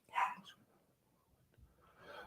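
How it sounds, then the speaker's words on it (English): Several dogs bark from a distance, a short burst of yaps at the start, then quiet, then more faint barking building again near the end. "I got 4 dogs right now."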